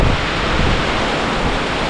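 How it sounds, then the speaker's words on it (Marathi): Heavy village rain driven by strong wind, a dense, steady roar of broadband noise close to the microphone, unbroken for the whole moment with no voices. "पाऊस एवढा जोरदार आला आहे ना"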